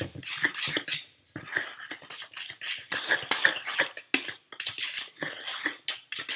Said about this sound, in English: Once you add the eggs, it turns a little more yellow and much creamier. Stir those in really well.